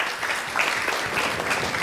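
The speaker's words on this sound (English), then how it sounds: "Give them a big round of applause, please." Congregation applause for the youth at an ISKCON temple gathering in Phoenix, a dense wash of clapping that continues evenly through the moment, moderately loud and somewhat distant.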